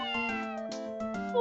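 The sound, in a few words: cat meowing in Phoenix Wright Ace Attorney video game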